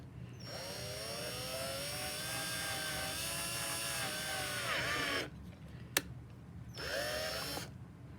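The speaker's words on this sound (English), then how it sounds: "The other hole that you're going to need to drill is at the very bottom of your bottle." Power drill boring a hole through the center of a plastic bottle's bottom for a bottle flute, a close whining motor run of about five seconds, a brief clack, then a second shorter burst, with no talking.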